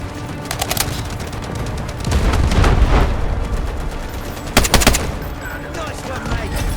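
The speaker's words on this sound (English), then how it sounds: "it makes for up in the tinny, metallic sounds of the weapons, gear, and magazines" Gunfire from the video game Delta Force: Hawk Ops comes as rapid bursts of sharp shots with a tinny, metallic edge, loud and close. Short automatic volleys are separated by a rumbling stretch of ambient battle noise.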